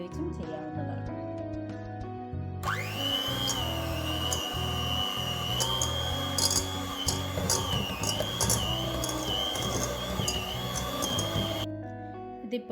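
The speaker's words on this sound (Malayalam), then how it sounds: "ഞാനിപ്പോൾ ഇവിടെ ഒരു ഇലക്ട്രിക് ഹാൻഡ് ബീറ്ററാണ് യൂസ് ചെയ്യുന്നത്." An electric hand beater whirs steadily through lemon cake ingredients in a bowl, close and loud for about nine seconds with a slightly wavering pitch, starting and stopping abruptly, with background music throughout.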